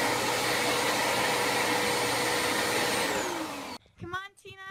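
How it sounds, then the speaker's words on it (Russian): A household vacuum cleaner runs with a loud, steady, broadband whine that winds down as it is switched off, after which a voice is heard briefly. "Он пытался выключить пылесос."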